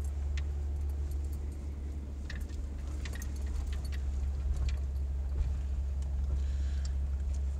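A jeep creeps slowly over rough off-road ground at about five miles an hour, its engine a steady low rumble throughout, with loose rattles and jangling from the cab riding over it and no talk.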